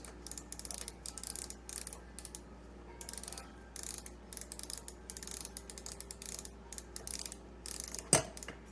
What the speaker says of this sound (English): well, that's not just going to wiggle loose, so let me unscrew it